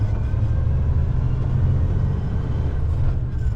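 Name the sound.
truck engine accelerating while driving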